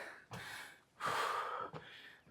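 A person pants hard after climbing Inwangsan Mountain in South Korea in cold weather: three heavy, breathy gasps follow one another closely, each loud and rough, with no talking.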